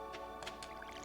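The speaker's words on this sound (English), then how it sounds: "let me water these first before I put stuff away" Crops watered with a watering can in Stardew Valley: a few soft, short splashing pours in quick succession over a faint steady background, quiet and close.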